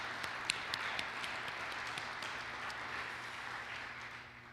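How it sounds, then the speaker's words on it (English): An audience at an educators' awards and recognition banquet applauds, a sustained wash of many hands clapping with a few sharper nearby claps, slowly tapering toward the end. "if we could just give them another round of applause"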